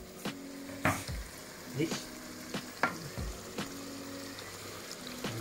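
Eggs frying in oil in a pan, a steady soft sizzle broken by several sharp utensil clinks and scrapes, with a brief spoken word.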